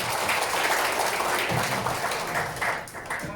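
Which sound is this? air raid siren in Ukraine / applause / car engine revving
applause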